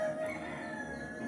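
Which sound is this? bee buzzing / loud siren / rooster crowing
rooster crowing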